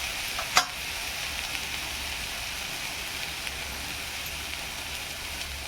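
Soybean curry with a spoonful of vegetable masala being stir-fried in a pan, giving a steady, even sizzle with faint scraping throughout and one brief clink near the start.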